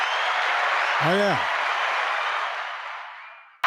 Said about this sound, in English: I love the grand concert hall of applause.